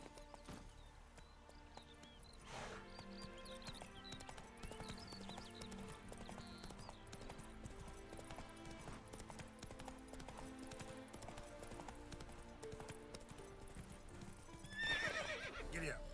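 Horse from The Witcher 3 video game: steady clip-clop of hooves and a whinny over game music and ambience, with a louder burst near the end.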